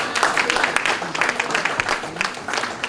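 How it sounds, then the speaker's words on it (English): Audience applause at an aviation careers conference, a brief burst of many hands clapping with uneven peaks, fairly close and continuous. "A round of applause for her, please."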